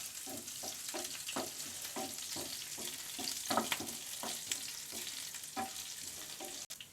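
Ginger, garlic and green chillies sauté in a hot pan for Indian-style wheat pasta, giving a steady close sizzle broken by regular soft scrapes of stirring throughout.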